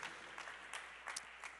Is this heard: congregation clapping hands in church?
yes